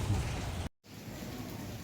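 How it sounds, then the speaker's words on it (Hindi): Steady rain falls outdoors during a monsoon-like spell, a continuous wash of hiss that cuts out briefly for a moment and then resumes at a slightly softer level. "कल से बल्कि बारिश हो रही है, कल रात से"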